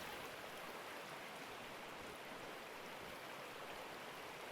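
Steady, faint rushing water in Gold Rush the Game, a continuous stream-like wash as a bucket fills, with no other sounds.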